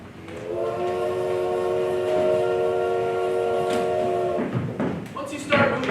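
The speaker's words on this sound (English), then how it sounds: "We slammed the door and the train started up." A circus train starts up, its horn or whistle sounding a long sustained tone, followed by clanking rail and carriage noise.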